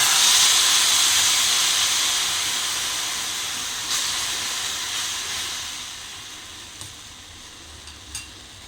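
A loud burst of hissing sizzle as tamarind pulp hits hot tempering oil with turmeric and chilli, slowly settling into a softer steady sizzle with a few light clinks, no voices.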